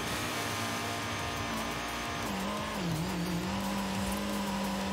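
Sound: Mazda MX-5 driving off-road in Forza Horizon 5 video game

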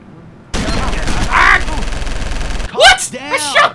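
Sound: gunfire from a video game (LA Cops)

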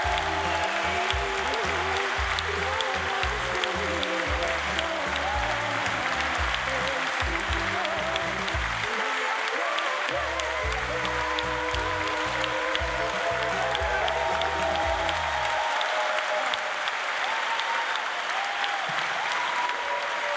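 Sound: audience applause

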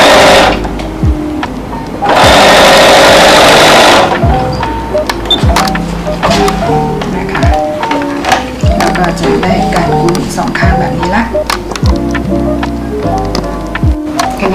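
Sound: sewing machine stitching fabric binding for slippers

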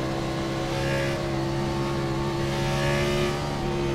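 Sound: race cars accelerating at an auto race

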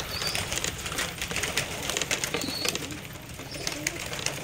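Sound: pigeons eating mixed feed

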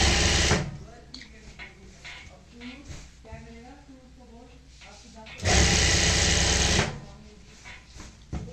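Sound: sewing machine stitching a salwar belt

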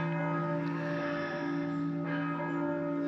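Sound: church bells ringing

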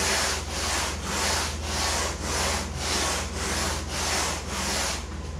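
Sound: hand sanding foam

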